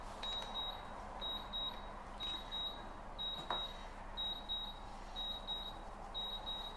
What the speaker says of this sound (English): I'm going to stop that beeping